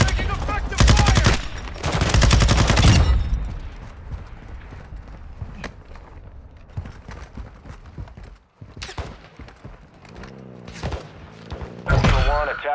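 Gunfire in Call of Duty: Modern Warfare 2 (2022) DMZ mode in Al Mazrah: rapid automatic bursts ring out loud and close, then scattered single shots and combat noise continue under voices.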